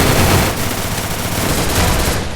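Dense automatic gunfire in a battle royale video game during a team fight, loud and continuous with rapid overlapping shots and no pauses.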